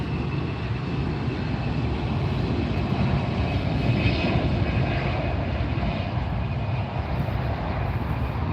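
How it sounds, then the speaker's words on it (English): Airbus A380 jet engines at LAX airport, a steady loud roar with a faint high whine running through it, continuous and close with no break, no talking heard. "Notice a very different, distinctive sound from the engines of this aircraft."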